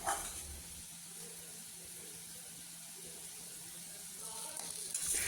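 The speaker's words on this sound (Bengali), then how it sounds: "এবারে সামান্য একটু জল দিয়ে এবার দেখো ভালো করে এটাকে কষিয়ে নিতে হবে" Quiet, steady sizzle of egg tadka masala being stir-fried with a splash of water, a soft even hiss with no voices over it.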